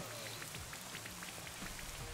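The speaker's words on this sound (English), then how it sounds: "Rain Dance. Okay, bring out the rain." Rain from the Rain Dance move in Pokémon Sword and Shield, a dense steady patter of drops on a surface under faint game music, with no speech.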